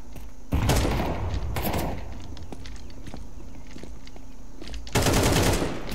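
Automatic gunfire in the Counter-Strike game on the Inferno map, two loud close bursts of rapid shots near the start and end, with quieter footsteps and faint game ambience between.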